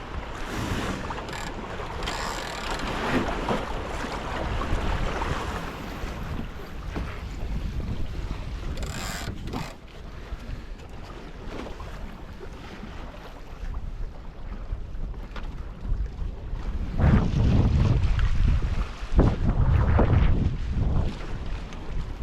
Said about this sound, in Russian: Сейчас ветер не сильный, его не будет сдувать.